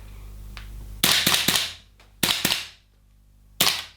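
Sig Sauer MCX Rattler gas blowback airsoft gun firing three quick bursts of sharp cracking shots with short pauses between, loud and close, with no talk.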